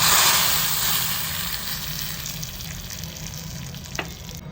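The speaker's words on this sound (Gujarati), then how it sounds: "અહીં સૂકા મસાલા સરસ રીતે ચતરાવા લાગ્યા છે" Dry spices crackling and sizzling in hot oil for a kadhi tempering, a dense steady fry close up that eases slightly after a loud start, with one brief clink near the end.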